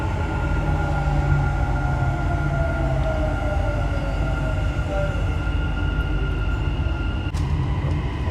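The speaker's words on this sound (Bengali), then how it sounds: "আর একটা মেট্রো আসতেছে গাইস, এই দেখেন" A Dubai Metro train pulls into an elevated station with a steady rumbling roar and rising electric whine tones, ending with a sharp clack near the end.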